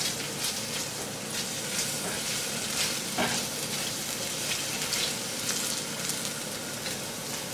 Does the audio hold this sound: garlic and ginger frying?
yes